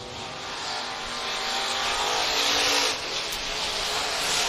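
Race cars roar around the oval at Stuart International Speedway in Stuart, Iowa, a broad steady engine drone that swells slightly toward the end with no break in the noise.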